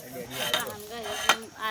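Metal utensils and a heap of household dishes being washed, with a few sharp clinks and clatters over a steady running-water wash, close by and moderately loud.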